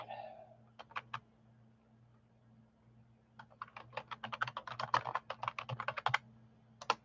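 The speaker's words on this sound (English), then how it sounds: "let me just type that in so that I know if I have to reference it" Clicky keystrokes on a computer keyboard arrive as a short burst, a pause, then a longer rapid run of typing, fairly close against a low steady background hum.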